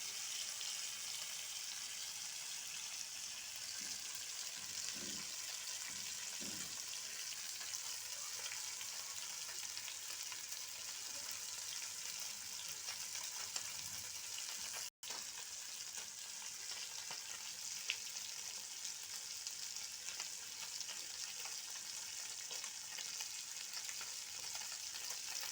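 Fish fries in a pan just after being flipped, a steady close sizzle and crackle that keeps going evenly with only faint background clatter and no talking.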